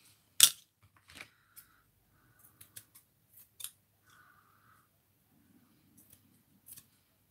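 Scissors snipping through a stickpin tag to cut it in half, a sharp close snip followed by several fainter, scattered clicks and small handling sounds in a quiet room.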